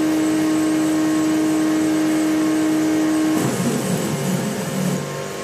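Stepper motors in a wheelchair lift control circuit spin alongside a running fan: a steady electric hum and whine, then a rougher, louder mechanical whirring for the last couple of seconds, with no talk.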